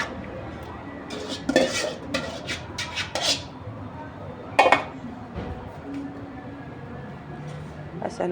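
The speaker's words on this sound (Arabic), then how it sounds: "هسه نخلطها كل زين" A spoon scraping and clinking against a metal pot while harees with added cream is mixed, irregular close knocks and rasping strokes in short bursts over a quiet kitchen background.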